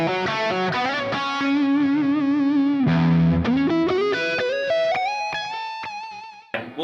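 Distorted electric guitar, a Les Paul Gold Top, plays a short melodic phrase of sustained, bending notes with heavy effects, loud and alone.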